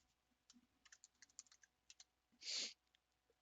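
Someone types on a computer keyboard, a quiet, close run of irregular key clicks with a brief louder burst partway through.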